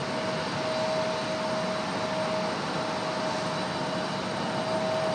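A jet airliner rolls off the runway at Raleigh-Durham International Airport, heard as a steady, broad engine roar with a faint whining tone, constant and moderately distant, no voices.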